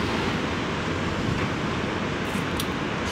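Sea surf on a very windy coast in Mallorca, a constant dense roar of waves blended with heavy wind buffeting the microphone, loud and unbroken for about three seconds.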